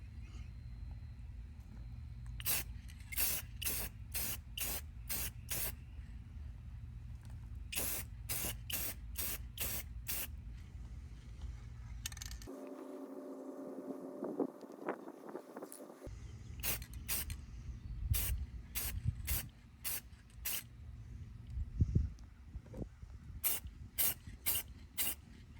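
Short hissing bursts of aerosol spray paint being applied to solar garden lights, in several rhythmic groups of quick puffs with a quiet pause in between, set against a steady low background hum.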